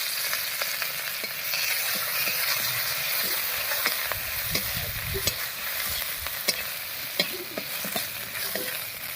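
Garlic and green chillies frying in hot oil with radhuni, a steady loud sizzle punctuated by sharp crackles and spoon scrapes, with a brief low rumble as ingredients drop in.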